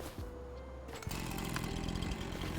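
A chainsaw from Farming Simulator 25 forestry work drones steadily, a brief shift in tone partway through, then runs on with a rough, buzzing motor sound under constant ambient noise, no voices.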